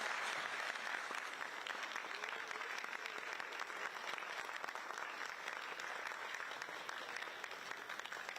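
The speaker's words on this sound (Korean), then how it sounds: "큰 박수 부탁드립니다." An audience at a Democratic Party ceremony bursts into applause after a plaque presentation, sustained dense clapping from a large crowd that stays even and fairly loud, with no voices over it.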